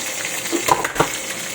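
Onion sautéing in a hot pan gives a continuous close sizzle, with a pair of brief spatula scrapes and knocks near the middle.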